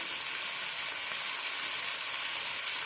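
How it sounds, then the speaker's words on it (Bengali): Steady, hissing sizzle of food frying in hot oil, continuous and fairly soft, with no voices. "আলুগুলো লাল করে ভেজে নেব।"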